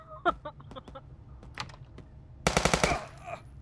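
A rapid burst of gunfire in the police tactical game Police Stories rings out near the end, following scattered clicks and small game sounds.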